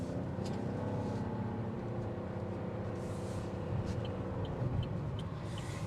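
A 2023 Buick Encore GX with a turbocharged 3-cylinder engine driving along, a steady low engine drone and road rumble heard from inside the cabin, even and unbroken.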